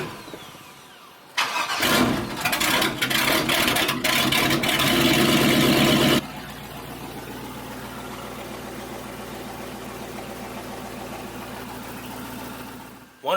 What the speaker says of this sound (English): So let's try to turn her on, see if she's leaking.